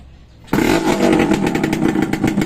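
A Suzuki X4 motorcycle with an unrepaired exhaust starts up after a low hum and then runs loud and rough, its harsh, clattering engine note close by and steady.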